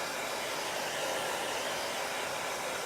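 A hot-air dryer blows over a Chalk Couture transfer, producing a steady, loud, even whooshing hum close by that holds without a break for the whole few seconds.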